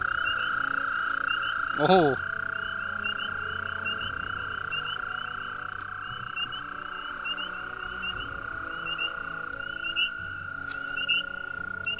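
Toads croak in a steady chorus of sustained trills, fairly close, with a brief louder call early on and a short spoken exclamation.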